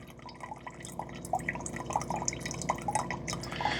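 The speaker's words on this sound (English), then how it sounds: "It's doing 2 fresh water rinses, then it's going to switch over to the cups." Keurig K-Duo coffee maker running a fresh water rinse while being descaled, giving a steady close trickle of dripping and splashing water with scattered drips over a low hum.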